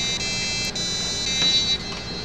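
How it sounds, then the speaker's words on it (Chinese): A small buzzer on an S4A learning board V2 plays a do-re-mi melody in steady electronic tones, stepping through a short run of notes, loud and close with no talk. "哆来咪哆来咪哈，那就是从这个蜂鸣器发出来的"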